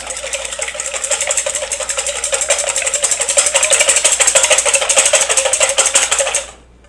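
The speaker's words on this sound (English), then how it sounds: "when you are whisking" Eggs whisked with a little cream and salt for an omelette, a fork or whisk rapidly clicking against the bowl in a steady, close, loud rattling rhythm that builds and then stops abruptly, with no talking.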